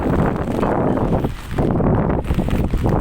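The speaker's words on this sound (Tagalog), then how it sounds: "lakas ng hangin guys" Strong wind buffets the microphone in a continuous low roar, with brief lulls between heavy gusts.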